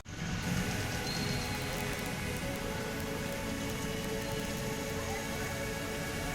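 Heavy monsoon rain in Surat pours down steadily and loudly, a dense unbroken hiss of drops drumming on surfaces throughout, with no voices.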